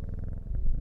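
A cat purrs close by as it is petted in the video game Strange Horticulture, a brief, low, rhythmic rumbling pulse heard alone.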